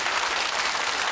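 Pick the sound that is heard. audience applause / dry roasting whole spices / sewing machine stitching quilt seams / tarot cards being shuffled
audience applause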